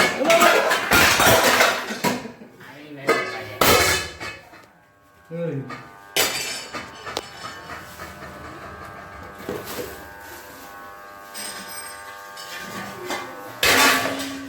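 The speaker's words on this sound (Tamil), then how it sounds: "இப்படித்தான் எல்லாத்தையும் பாத்திரம் தள்ளி விட்டு" Metal pots and vessels clatter and scrape in bursts as they are shoved about, with a voice talking intermittently between the clanks.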